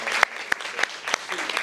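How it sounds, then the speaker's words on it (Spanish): Audience applause at a 2019 communication-week event about traditional and digital radio, a steady dense crackle of clapping with a few sharper claps standing out, heard for under two seconds. "si me acompañan con un fuerte aplauso para ellos, de verdad."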